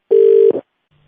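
A single loud, steady telephone tone sounds for about half a second after a call is hung up on a radio show, ending with a brief click and then silence.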